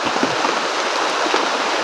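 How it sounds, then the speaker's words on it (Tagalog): Steady rain pours down in a dense, even hiss, loud and close with no voices. "umuulan na po,"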